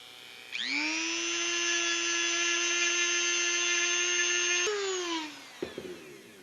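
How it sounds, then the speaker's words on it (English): A Dremel rotary tool with a small drum sander on low speed shapes a resin pen blank, giving a close, steady high whine that holds for about five seconds, dips in pitch as it winds down, then ends with a few small clicks. "We'll try a Dremel with a little drum sander on low speed and see if we can refine this shape down."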